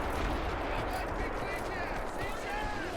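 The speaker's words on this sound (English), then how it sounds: "artillery inbound" Artillery fire in the Army Men: Frontline Defence video game, a dense continuous roar of shelling and gunfire filling the whole stretch at steady loudness, with faint whistling tones near the end.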